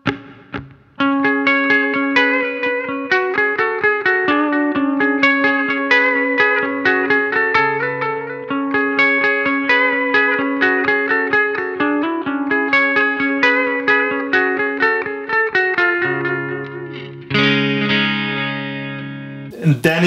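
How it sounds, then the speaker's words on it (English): Electric guitar played through a Tech 21 PL1 Fly Rig with its ambience set to a long reverb, steady picked notes and chords washing into a lingering tail, loud and alone, ending in a brighter strummed burst. "if you want to go real ambient, you just hit that size switch for the ambience knob and the reverb gets even longer"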